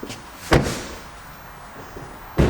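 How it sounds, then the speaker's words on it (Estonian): The door of a used Audi S5 shuts twice, each time with a dull, close thump and about two seconds of quiet cabin noise between them. "Pane uks kinni."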